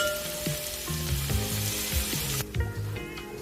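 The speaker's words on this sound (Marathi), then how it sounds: "कांदा आपण छान परतून घेऊया, मस्त असा गुलाबी रंगावरती" Onion frying in hot oil toward a pinkish golden colour, a close, continuous crackling sizzle that drops sharply quieter partway through, with low knocks and hums from the kitchen underneath.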